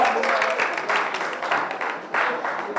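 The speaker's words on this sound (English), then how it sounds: "applause for the team from the St." Audience applause for the St. Joseph Teachers College team at a national debating championship final: a steady wash of clapping from a hall crowd, moderately loud, swelling slightly near the end.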